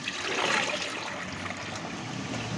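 Water pours steadily into the basin of an agricultural engine in a continuous splashing stream for a few seconds, close by, with no voices.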